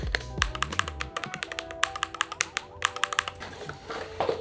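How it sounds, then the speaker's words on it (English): Fast, steady typing on a new high-end mechanical gaming keyboard, crisp clacking keystrokes in quick bursts, close and distinct against a quiet room. "new high-end keyboard, which is absolutely sick"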